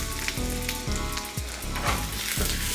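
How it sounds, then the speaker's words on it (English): Onion sautés in a pan for a lobster whiskey cream sauce, giving a loud, dense sizzle broken by regular stirring strokes every half second or so. "Saute that"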